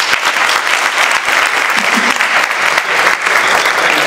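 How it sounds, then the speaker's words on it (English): An audience at a business school speaker-series talk breaks into a round of applause, dense and sustained clapping that fills the room at a steady level for the whole stretch. "So give them a round of applause as well."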